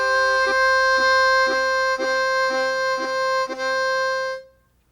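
A harmonica played with tongue blocking, a sustained single-note melody punctuated by steady rhythmic chord pulses about twice a second, loud and close, ending with the tone fading out.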